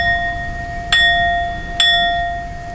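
Two clear strikes of a small bell rung to clear negative energies during a tarot reading, each a sharp onset followed by a long sustained ringing tone, spaced just under a second apart, close and loud with no talk.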